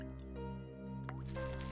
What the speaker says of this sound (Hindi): नहीं, शायद कुछ टपकने की आवाज आ रही है। शायद लीकेज होगा